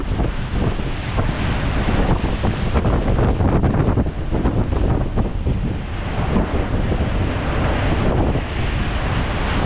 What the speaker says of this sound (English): Just a bit blustery here at the moment